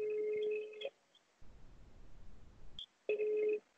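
Telephone ringback tone heard twice, a steady electronic ring that stops and returns after a stretch of faint line noise, on a call to a contestant's friend in a Spanish quiz show that goes unanswered.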